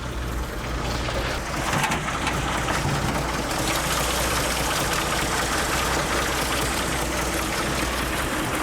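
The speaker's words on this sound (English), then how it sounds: "Listen to that motor run." A six-cylinder propane-fueled internal combustion engine idles steadily at close range with the hood open, a continuous even rumble with no talking.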